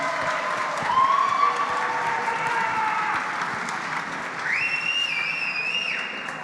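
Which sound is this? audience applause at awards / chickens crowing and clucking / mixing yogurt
audience applause at awards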